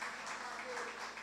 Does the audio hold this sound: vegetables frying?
no